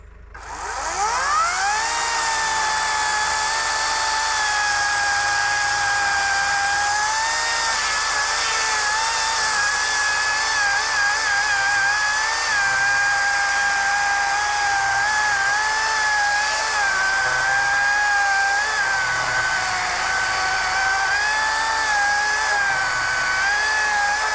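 An EGO 18-inch battery electric chainsaw spins up and cuts steadily through timber about 30 inches thick, a loud, close, continuous high whine that holds for the whole stretch with no speech.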